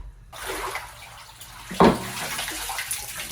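Seawater is dumped overboard from a fishing boat's catch tank into the sea, a soft splashing wash followed by one loud, short gush of pouring water near the middle, then quieter trickling.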